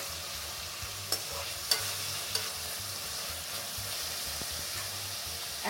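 Chopped garlic and ginger frying in a pan for a Kerala-style chicken curry, a steady soft sizzle at low volume with a few faint clinks of stirring, no talk.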